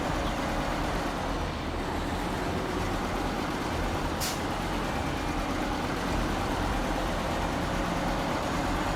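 A Mercer truck in a truck-driving game grinds steadily along a rough route in Sierra Fuerte, Chiapas, its engine a constant low, droning chug under broadband road noise, with one brief high hiss near the middle and no talking.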